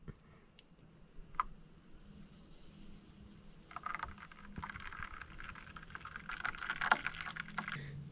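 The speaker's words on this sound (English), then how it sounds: "Time to froth the milk. It really only takes like 30 seconds of pumping." Milk is frothed with a hand-pumped frother for a latte in a camper van, giving soft repeated plunging and swishing sounds that build to a faint rhythmic pumping without talk.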